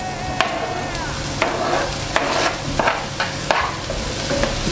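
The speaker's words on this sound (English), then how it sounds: "At this point, I'm going to add the mushrooms in." Mushrooms go into a pan with onions and fry, a close crackling sizzle with repeated sharp scraping stir strokes at a loose, irregular rhythm, no talking.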